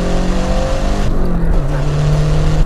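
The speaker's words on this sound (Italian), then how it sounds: "sentila, turbo!" A Lancia Delta HF Integrale Evoluzione's turbocharged engine accelerates hard on the road, a loud, close rasping growl whose pitch climbs, dips at a gear change, then pulls again, with no talking.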